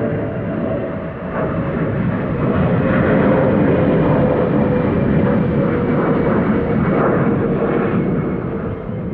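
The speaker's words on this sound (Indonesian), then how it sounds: "Akhirnya pesawat pun mendarat dengan mulus." A passenger airliner touches down, with a loud, continuous engine and airflow roar that holds steady and dense for the full stretch, with no voices.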